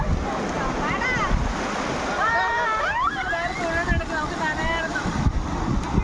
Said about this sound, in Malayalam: അങ്ങോട്ട് നോക്ക് തിരമാലകള്.